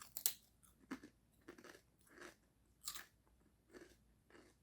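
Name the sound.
biting and chewing thick crunchy rosemary chips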